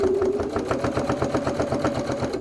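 A sewing machine stitches through about eight layers of fabric and stabiliser in a fast, even run of mechanical thumps. The motor keeps a steady hum underneath, loud and close.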